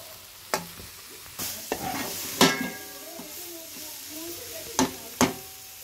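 Masala with ginger garlic paste frying in a pan, a gentle continuous sizzle under repeated stirring, with several sharp spoon knocks against the pan rim standing out, close and without talk.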